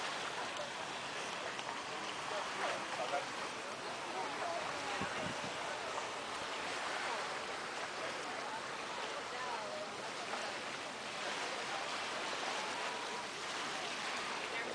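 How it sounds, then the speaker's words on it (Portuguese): A river meets the sea at a shallow beach at Praia do Gunga, Maceió: a soft, continuous wash of moving water with gentle surges, fairly distant and low in level, with faint voices in the background. "Encontro do mar com o rio."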